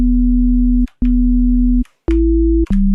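A synthesized harmonic bass from a digital oscillator plays steady sustained tones in short held notes with brief gaps between them, the pitch stepping up once near the end before dropping back, loud and alone.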